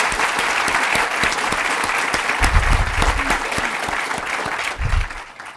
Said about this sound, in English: So if you could please join me in a round of applause to thank Richard for his generosity.